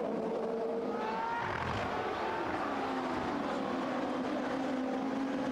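Champ Car race cars roar past at Brands Hatch during the 2003 London Champ Car Trophy, their engine notes sweeping down in pitch as they go by at a moderate distance.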